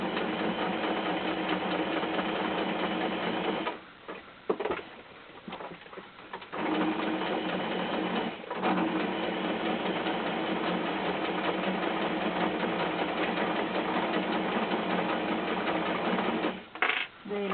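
A sewing machine stitches fabric for an Easter bunny toy in long, steady mechanical runs of rapid needle clatter. It is close and fairly loud, pausing briefly twice as the work is turned.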